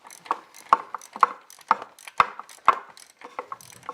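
A ratchet tightens bolts on a 1973 Cobalt Mercruiser 165hp boat engine: a series of sharp, close clicking strokes in an even rhythm, about six main ticks with lighter clicks between.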